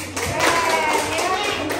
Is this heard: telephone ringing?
no